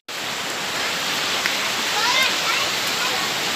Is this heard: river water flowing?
yes